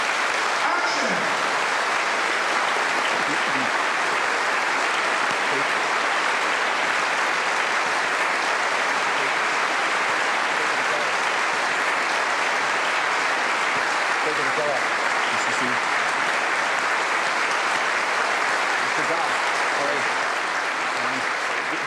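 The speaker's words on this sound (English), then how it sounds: "And clap, please. Applause." Sustained applause from a crowd of extras on the set of the film Man of the Year, a dense, even roar of clapping lasting over twenty seconds with faint voices mixed in.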